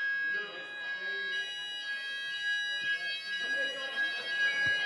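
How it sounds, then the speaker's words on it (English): A building fire alarm test sounds through a conference talk on Node.js, a steady electronic tone held throughout with bursts of muffled voices and room noise beneath it. "Oh, fire alarm test."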